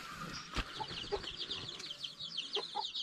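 Village hens cluck in short bursts near a nest of small chicks, with faint peeping and a few soft wing or scratch noises, no talk.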